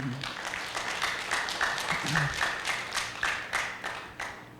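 A church congregation claps together in a steady rhythmic beat while a preacher's voice carries on over the clapping in Filipino and English.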